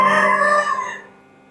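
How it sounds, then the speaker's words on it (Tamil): A rooster crows once, loud and close, its drawn-out call holding steady and then tapering away quickly into quiet. "கோழி கூவுறத கவனிச்சீங்களா?"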